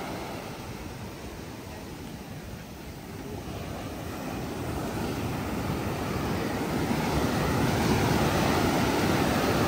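Ocean waves wash onto a beach in El Salvador as a continuous broadband roar that slowly builds in loudness, mixed with heavy wind buffeting the microphone.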